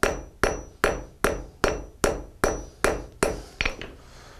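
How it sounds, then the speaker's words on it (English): Blacksmith's hammer peen striking hot metal to texture it, nine sharp ringing blows at an even, rapid rhythm, loud and close, with no talk. "Back to the peen of the hammer, putting the lines in it to give it a texture."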